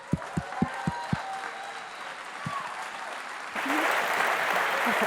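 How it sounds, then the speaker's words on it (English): Applause at a Startup Grind event as speakers walk on stage, beginning with a few sharp separate claps that swell after a pause into fuller, louder crowd clapping. "give them the applause they deserve as they come on stage"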